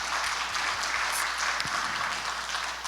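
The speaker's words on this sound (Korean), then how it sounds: "우리 늘 수고하는 미디어 팀, 또 자막 담당자를 위해서 박수 한번" A church congregation at a Wednesday service claps together for the media team, a steady, fairly loud wash of applause with no voices over it.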